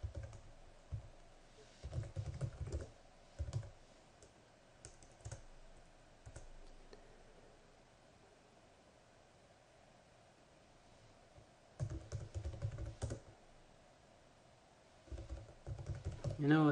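Bursts of typing on a computer keyboard, quick clustered clicks in short runs separated by pauses, fairly quiet and close.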